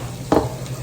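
Beef browning in a frying pan for roast beef with peppers and onions gives a short sizzle with a brief stir or scrape, close and fairly loud, with no talking.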